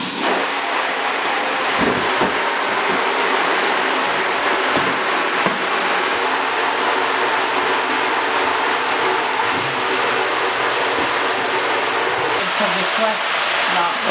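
A shower spray rinses emulsion off a screen-printing screen, a steady close hiss of running water that continues without a break for the whole stretch, with a few faint knocks underneath.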